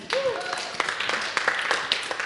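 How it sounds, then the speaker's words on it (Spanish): A classroom group of young students breaks into brief applause for a classmate, a short burst of scattered clapping close by, overlapping with talk. "Excelente, un aplauso para Mariam."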